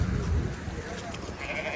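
Sheep bleating amid a busy livestock market crowd, the animal calls blending into a dense, noisy background of chatter and movement.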